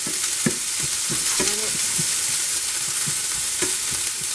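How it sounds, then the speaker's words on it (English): Onions sautéing on low heat in a pan, stirred with a spatula: a steady close sizzle with repeated soft scraping strokes at an uneven rhythm, no talking. "it's on low, so it's going to saute real low"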